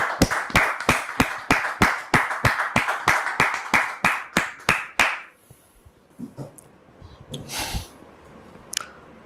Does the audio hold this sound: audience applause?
yes